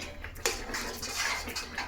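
Halwa splatters and sizzles in a pan on a gas stove, a bubbly crackling spread across the clip with a sharper pop near the start, cookware clinking lightly, no voices.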